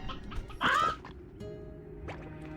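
Chickens in the video game Slime Rancher 2: a short, bright clucking squawk near the middle, with faint game tones and rustle around it, no talk.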